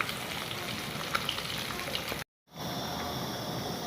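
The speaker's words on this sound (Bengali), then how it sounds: "এখন বাইলে মাছটা রান্না করব" Baila goby fish cooking in a pan, a steady close sizzle and bubbling hiss that cuts out briefly, then resumes just as strong.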